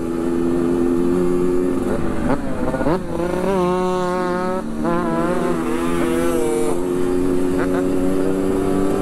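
A group of about ten motorcycles rides together, engines droning close by with rising and falling revs as they pass and accelerate, a loud, continuous roar with overlapping engine tones.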